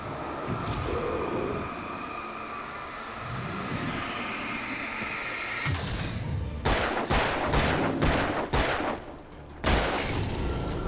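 Rapid bursts of gunfire crack out in Alan Wake as an enemy is shot, loud, sharp reports coming in clusters over a low, steady rumble of background noise.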